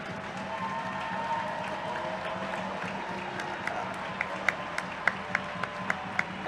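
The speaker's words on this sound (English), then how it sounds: "Matt Howard skates around and to take the applause." Distant crowd noise and scattered applause from a large ice hockey arena during a cup final, with a few sharp cracks and taps rising near the end.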